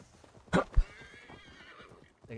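A horse in the Assassin's Creed Valhalla video game lets out a short, sharp whinny, followed by a thud of hooves and a soft rumble of movement beneath it, fairly close and with no talk.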